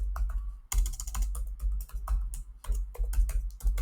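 Quick, irregular keystrokes on a computer keyboard entering an access token into a Power Automate HTTP action, with clustered clicks and brief pauses, close and fairly quiet over a low hum.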